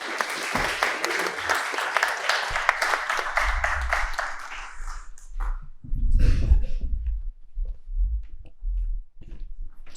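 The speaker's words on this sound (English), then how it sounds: "If you wouldn't mind applauding as he gets up, that would be brilliant." An audience at a debate night applauds as a speaker walks up to the stage, dense clapping filling the first half before fading into scattered low thumps and handling noise.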